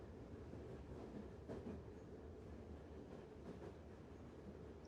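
Steady rumble of a train ride in the video game A Taste Of The Past, a continuous broadband roll with faint rhythmic wheel clatter, moderately loud and constant, no voices.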